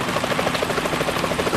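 Helicopter in the Metal Gear Solid 2 video game, a rapid, steady rotor chop pulsing evenly at close range for a brief moment.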